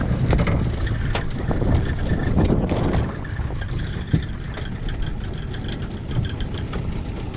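Strong, steady wind roaring across the microphone at a Southern California harbor, with low rumbling buffeting and occasional gusts throughout.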